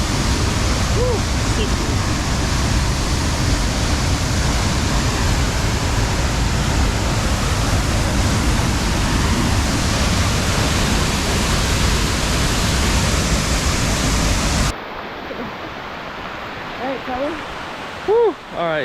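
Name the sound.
pouring rain at a rainforest waterfall in Costa Rica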